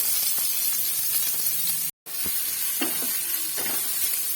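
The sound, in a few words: onion sautéing in olive oil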